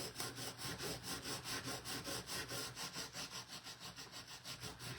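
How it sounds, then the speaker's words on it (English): Hand sanding of wood, a steady back-and-forth rasping with regular even strokes about five per second, close and fairly quiet, no talking. "after you get that initial sanding done, it gets pretty easy after that"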